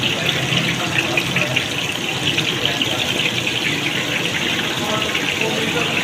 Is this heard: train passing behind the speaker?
no